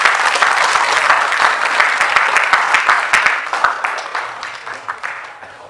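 An audience gives sustained applause after a Hindi stage play, with dense clapping that gradually thins and fades toward the end.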